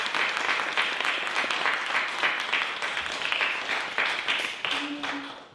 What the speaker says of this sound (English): Let's have another massive round of applause for Ti.